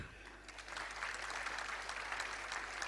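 A short burst of scattered applause from a convocation audience, fairly faint and steady throughout.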